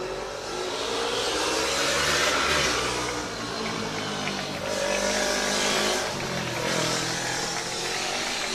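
Formula Student race car lapping an endurance track, a loud continuous engine drone rising and falling as it passes, with tire noise and broad roar throughout and no talk.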